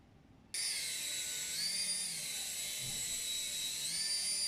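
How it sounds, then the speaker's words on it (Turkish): A Fakon plastic toy helicopter starts up and flies indoors with a sudden, steady high-pitched motor whine that wavers slightly in pitch, close and continuous after a brief quiet moment. "Helikopterimiz bu şekilde ev içerisinde uçabiliyor."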